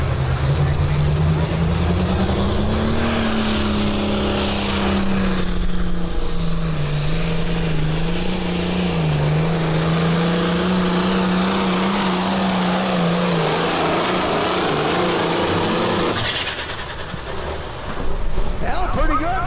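A pulling tractor at a county fair tractor pull roars loudly and continuously, its engine pitch rising and wavering, before the engine cuts off near the end. An announcer talks over it.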